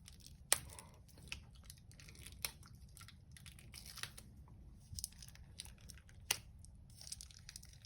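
Faint, quiet crinkling and tearing of thin plastic wrap, with a few sharp crackles scattered through otherwise soft rustling.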